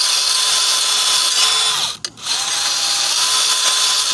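A drill-powered sharpener grinds a lawnmower blade with a loud, steady high whine that cuts out for a moment partway through, then resumes at full strength.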